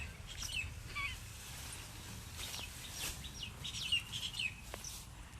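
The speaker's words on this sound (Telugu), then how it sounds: "మీకు బర్డ్స్ సౌండ్స్ వినిపిస్తున్నాయా?" Parrots and other birds call in a mango orchard, with scattered faint chirps and short squawks over a low outdoor background hum.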